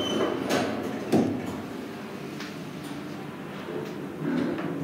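A vintage Guideline lift at the V&A museum in London, its motor giving a low steady hum under rattling and a few clunks of the car and doors, fairly close, with no talk.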